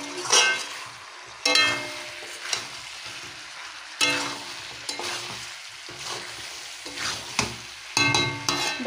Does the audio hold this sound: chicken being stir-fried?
yes